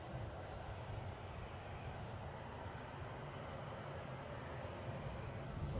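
A distant airplane engine drones steadily at Edinburgh airport, a faint broadband roar that swells slightly toward the end, with no voices over it.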